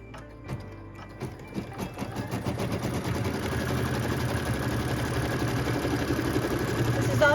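A sewing machine stitching a long straight seam across a quilt block, starting with a few slow stitches that speed into a steady, close, rapid mechanical whir that runs on without a break.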